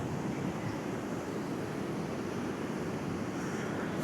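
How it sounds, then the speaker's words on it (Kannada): Steady, faint wash of sea waves on a beach at Mangaluru, continuous broadband surf with some wind noise on the microphone and no voices. "ಅಲೆಗಾಲ ಸದ್ದು ಮಾತ್ರ"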